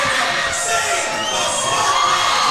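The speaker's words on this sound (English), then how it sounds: "Zane Finley crowd" Fight night crowd at a BCM Promotions boxing event cheering loudly for a boxer, a dense, continuous roar of shouts and whoops that fills the whole stretch without pause.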